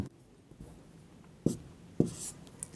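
Marker or pen writing numbers by hand on a board during a maths lesson: soft scratchy strokes with two sharper taps near the middle, close and fairly quiet, with no talking.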